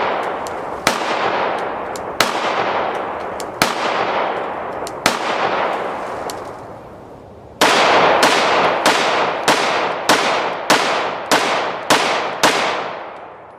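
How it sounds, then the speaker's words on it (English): Gunshots from a Rock Island Armory RIA 5.0 pistol on a range: a slow string of single loud cracks about every second and a half, then a quick rapid-fire burst of around ten shots, each one ringing out and decaying. "That's my first shots."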